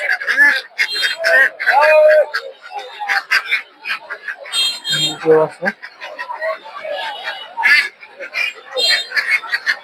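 Domestic ducks quack amid a busy poultry market crowd in Narsingdi, Bangladesh, brief nasal calls poking through steady nearby chatter of several people.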